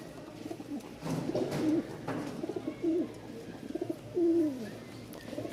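Pigeons coo repeatedly at close range among fancy breeds such as Pakistani toy lahori, Danish and lakka, with several soft, rolling coos spaced through the clip over faint background rustling.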